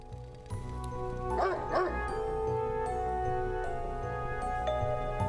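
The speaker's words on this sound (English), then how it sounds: "the dog was barking at someone behind him" Dog barking in the video game Spirit Hunter: NG, a few sharp barks and yips standing out near the start over a steady layer of tonal background music that continues throughout.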